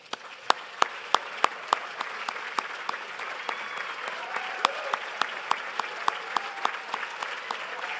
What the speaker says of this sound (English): If our board of directors could please stand for a round of applause.